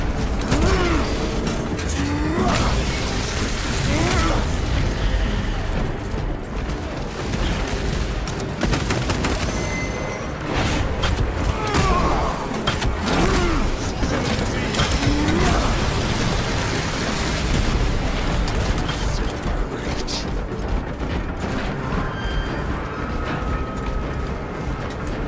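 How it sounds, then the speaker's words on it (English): Elevator machinery arriving in a Warhammer video game: loud continuous grinding and creaking mechanisms with ratcheting clanks and heavy booming thuds, sustained throughout without speech. "The elevator is almost here."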